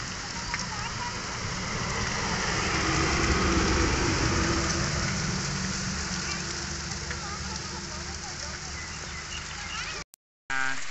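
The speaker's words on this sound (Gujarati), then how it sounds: "આજે પહેલો વરસાદ પડી ગયો છે" Heavy first rain of the season pouring down outdoors, a dense, loud, continuous hiss of falling water that swells and then eases slightly before cutting off abruptly near the end.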